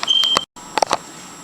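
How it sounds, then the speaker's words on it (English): Kitchen alarm going off during cooking, a close electronic beep followed by a short gap and then a quick cluster of sharp, clipped bleeps. "oops, hold on, that's my alarm."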